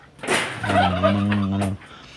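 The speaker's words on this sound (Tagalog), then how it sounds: "pabo." A single loud, close turkey gobble on a farm, a rapid warbling call lasting over a second, then quiet.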